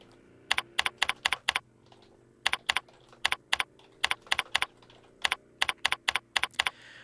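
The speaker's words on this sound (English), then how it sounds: "once you've typed in your message" Close-up clicks of a computer keyboard as a message is typed, sharp keystrokes arriving in quick bursts of four to six separated by short pauses, over a quiet room hum.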